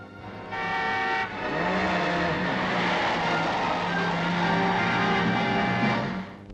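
Rally cars on mountain roads at the Monte Carlo Rally give a sustained, loud engine roar with rising and falling revs and a faint tyre squeal, heard alone without talk.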